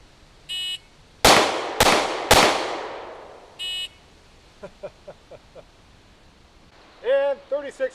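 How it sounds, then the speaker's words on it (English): Three loud, close M&P pistol shots fired in quick succession at a 12-yard range, each crack followed by a long decaying echo, with beeping electronic tones before and a voice speaking briefly afterward. "I'm going to try three shots, point shooting, focusing on the target"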